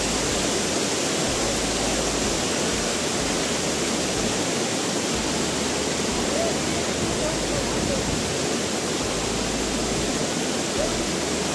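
Amboli waterfall pours down in a dense, constant roar of rushing water, loud and close, filling the whole stretch without a break.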